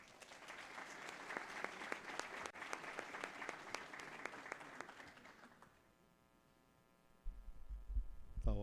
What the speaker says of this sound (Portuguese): Vamos recebê-lo com os nossos aplausos.